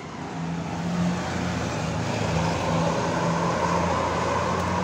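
Two buses, a Restu Panda Patas from Ponorogo among them, roll into the Purabaya Bungurasih bus terminal entrance: a steady, fairly loud diesel engine and traffic drone with a low idling hum and no voices.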